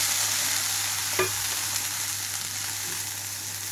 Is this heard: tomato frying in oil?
yes